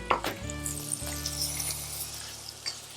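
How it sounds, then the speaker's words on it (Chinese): Duck breast, flipped onto the meat side, sears in melted butter with herbs, giving a steady close sizzle of frying with a sharp spike at the start and light pan clinks. "我们把肉面红色的地方把它煎到上色"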